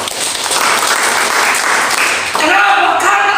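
Applause at a church prayer fellowship gathering in a Jakarta apartment, a dense, steady wash of clapping that fills the room and then shifts as a voice and music-like tones come in near the end.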